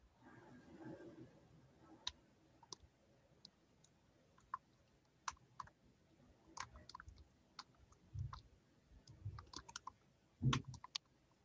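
Keys click on a poor-quality computer keyboard, sharp irregular taps scattered across the stretch with a few heavier thuds, fairly close and quiet against a low background.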